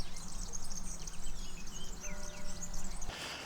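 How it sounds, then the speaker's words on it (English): Birds chirp and sing across a six-acre farm in Orca, central Portugal, with bright, overlapping calls sounding out over a windy rumble close to the microphone. "I don't know if the mic's picking up the sound of all the birds"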